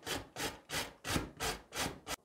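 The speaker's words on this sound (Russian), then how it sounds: "Рядышком на крупной терке натру сочную морковь." A juicy carrot is grated on a coarse grater in seven rhythmic rasping strokes, each about a third of a second long with short gaps between them, close and fairly quiet.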